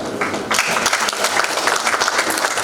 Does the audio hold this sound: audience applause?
yes